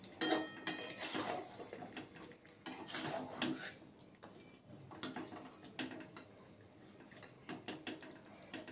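Masala chicken curry stirred in a pan with oil separating, a spoon scraping and clinking against the metal in irregular soft taps and scrapes, fairly quiet.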